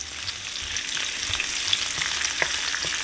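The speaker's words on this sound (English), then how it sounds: "I'm going to be adding the olive oil, the garlic, and the basil to my pasta." Olive oil, garlic and basil sizzle steadily in a pan for vintage Italian pasta with eggplant, a close, continuous hiss with faint pops and stirring sounds and no talking.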